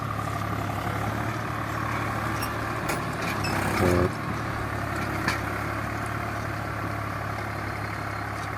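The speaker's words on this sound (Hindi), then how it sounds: "अब खेत है और ट्रैक्टर है तो जुताई बहुत जल्दी हो जाती है इससे।" A tractor engine runs steadily in a hill farm field used for ploughing, a constant low mechanical drone close by, with a brief louder surge midway and a short spoken word over it.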